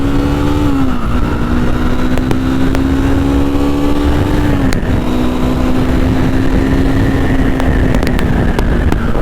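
A Triumph Scrambler 400 X motorcycle accelerates hard through the gears, its loud engine note climbing and then dropping at each of two upshifts before pulling steadily again, close and without speech.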